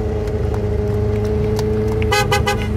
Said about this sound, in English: Here goes all the cars.